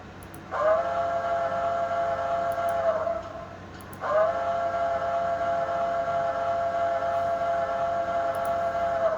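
A steady Crosby steam whistle from a Bachmann Tsunami sound decoder in a model steam locomotive blows in two long blasts, the first about three seconds, a brief pause, then a longer sustained second blast, loud and close.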